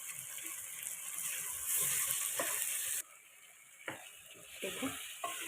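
Chickpeas fry with ground moong dal in a pan, making a soft sizzle and scraping stirs; the hiss swells louder, then drops off sharply halfway through, followed by intermittent spoon clacks.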